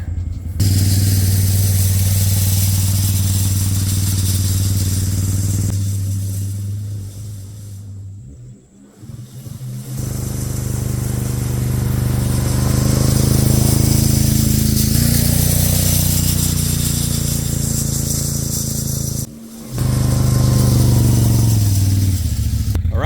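Can-Am Outlander ATV dragging an S3 Delta drag harrow across a loose gravel driveway: a loud, steady engine drone with grinding gravel scrape, briefly dipping twice as it passes close by.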